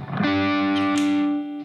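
Electric guitar through a Hughes & Kettner Black Spirit 20 on the crunch channel with boost engaged, high gain and a touch of reverb: a single sustained distorted note or chord rings loud and steady, then fades.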